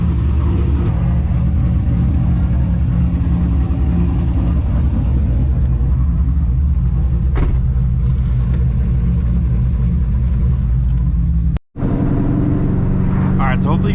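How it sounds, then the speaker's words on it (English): Inside a Procharged C5 Corvette Z06 on the road, a steady loud engine drone with rumbling tyre noise continues throughout, briefly cutting out near the end, with some talk over it. "we're gonna go for a rip in the Corvette, see how she's running with the booster pump on"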